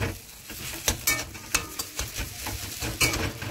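Vegetable filling with roasted cumin powder stirred in a pan, soft frying sizzle under sharp intermittent clinks and scrapes of a spoon against the metal, close and uneven, no voices.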